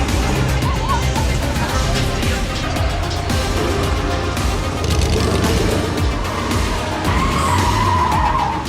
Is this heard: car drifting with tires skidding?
yes